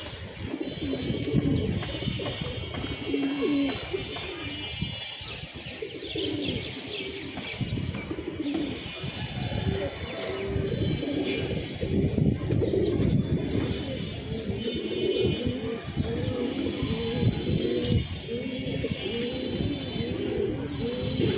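Pigeons coo and chirp steadily outdoors on a windy day while a flock flies above the loft, the soft calls continuous and fairly close over a rushing wind bed.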